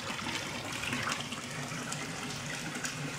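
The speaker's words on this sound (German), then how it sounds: "wie hier das Wasser zurück in den Teich läuft." Water from the overflow of a small garden pond filter, a DIY aquaponic plant-filter growbed, runs back into the pond as a steady soft splashing trickle, alone and fairly quiet.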